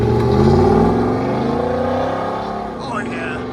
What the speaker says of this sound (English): Gibson exhaust. Sounds phenomenal.